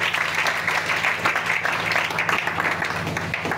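Church congregation applauding and cheering for the Lord, a steady wash of many hands clapping, dense and continuous with a murmur of voices.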